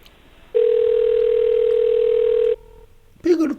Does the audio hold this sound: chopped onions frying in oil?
no